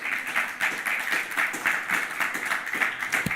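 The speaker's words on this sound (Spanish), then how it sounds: "denle un aplauso fuerte al Señor" A church congregation applauds during a Sunday worship service, a steady wash of many hands clapping with a slightly pulsing, rhythmic feel, fairly close and full.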